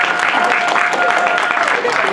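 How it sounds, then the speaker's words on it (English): A convention panel audience applauds in a brief, steady burst of clapping, with voices and cheers mixed into the crowd noise. "First off, give yourselves a round of applause."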